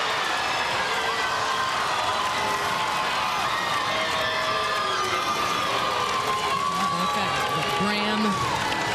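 A packed gym crowd roars steadily at the 2013 Class AA high school girls basketball championship between Braham and New Richland-H-E-G, a dense, continuous wash of cheering heard under a commentator's talk.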